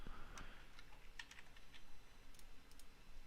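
A computer keyboard clatters under quick typing, with light, close key taps coming in short uneven bursts over a faint background hum.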